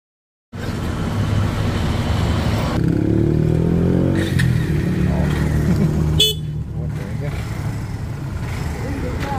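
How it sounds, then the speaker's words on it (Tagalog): A 2025 Kawasaki Barako 2 motorcycle with a cold engine in the morning starts with one press of the electric starter. The engine catches at once and settles into a loud, steady, close idle that runs on. "Kaunting pindot lang, aandar na yan."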